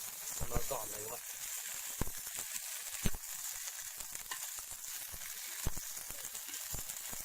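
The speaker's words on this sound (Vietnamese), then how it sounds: "Đây, bây giờ là chiên" Young cicadas frying in a pan, giving a steady, fairly quiet sizzle with occasional sharp pops and crackles.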